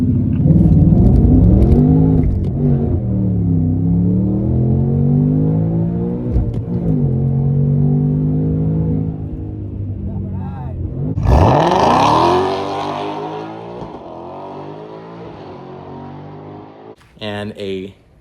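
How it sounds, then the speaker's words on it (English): An 800-horsepower Ford Mustang FP800s with a Whipple supercharger and manual stick shift accelerating hard, its loud, close engine drone rising and falling in pitch through the gears while people talk over it. "an 800 horsepower Mustang Whipple with the warranty and stick shift"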